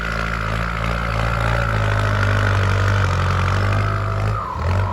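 New Kubota M8808 farm tractor engine running hard, a loud, steady droning hum with a slight rise in pitch, then a brief dip right at the end.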